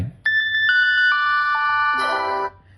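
A phone-finder alert set off from a Casio G-Shock GA-B001 watch plays as a loud, bright chiming melody of ringtone-like notes lasting about two seconds before cutting off, with no talking.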